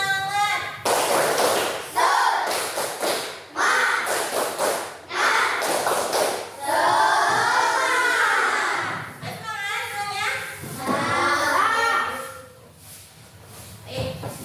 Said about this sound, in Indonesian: Sebelum itu, tepuk semangat dulu ya. Tepuk semangat.